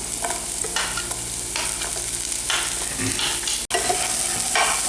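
Carrots and capsicum are stirred in a hot pan, making a continuous close sizzle with repeated scraping strokes of the spoon and one abrupt brief cut-out near the end.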